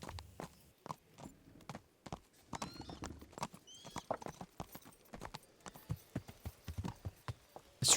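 Horse hooves clip-clop in a steady walking rhythm in Kingdom Come: Deliverance, crisp and close, with a faint snort or whinny now and then.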